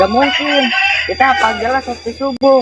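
A rooster crows at dawn, its drawn-out calls mixed with a voice imitating the crowing, loud and close, while people talk over and between the calls.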